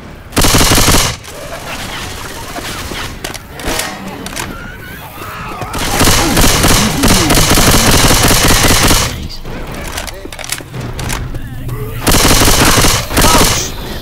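Loud, close gunfire in Left 4 Dead 2: dense automatic bursts in long stretches separated by short lulls, with occasional booms and shouted voices mixed in.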